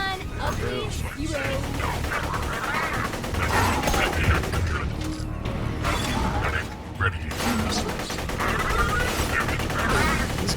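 Gunfire from an electrical gun in Borderlands 2, rapid mechanical shots and clanks layered with game effects, while a player talks over it.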